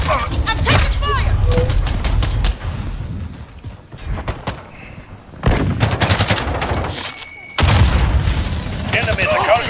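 Incoming gunfire in Call of Duty Modern Warfare: loud bursts of automatic weapon fire and sharp individual shots ring out in several clusters, with booming impacts between them and voices talking over the fighting.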